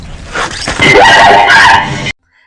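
A dog in a Resident Evil video game whimpers and yips loudly for about two seconds, close and alone, then cuts off abruptly.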